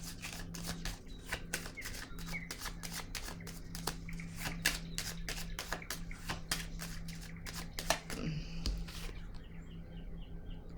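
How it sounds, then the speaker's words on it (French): Tarot cards being handled, shuffled and laid down on a surface, with a steady series of crisp flicks and taps up close, a faint tonal hum underneath and no talk. "Je vais déposer une carte encore."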